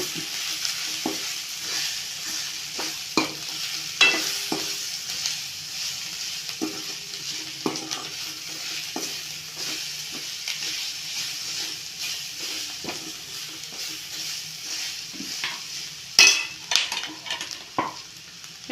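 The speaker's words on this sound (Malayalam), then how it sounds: "ഇത് വീണ്ടും ഇങ്ങനെ ഇളക്കി യോജിപ്പിക്കണം നന്നായിട്ട്" Kerala-style egg roast masala with coriander powder is stirred in a hot pan. A steady sizzle runs under repeated scraping knocks of the spoon, which grow into a busier burst near the end, with no talk.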